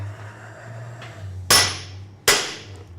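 Two sharp hammer blows strike a metal workpiece seated on parallels on a shed workbench, each a loud crack with a ringing decay, spaced under a second apart over a steady low hum.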